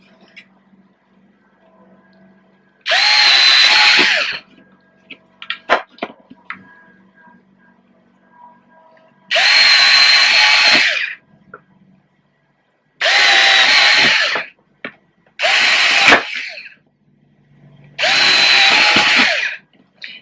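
Power drill boring into a piggy bank during a leg and ear rebuild, five separate whirring bursts of a few seconds each, close and loud, separated by quiet pauses with small handling clicks.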